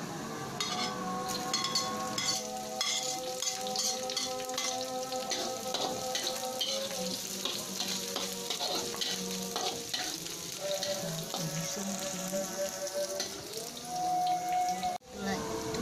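Shallots stir-frying with young papaya in a hot pan, a continuous crackling sizzle with stirring and scraping sounds throughout, close and steady, no voices heard.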